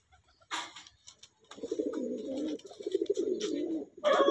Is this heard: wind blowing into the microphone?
no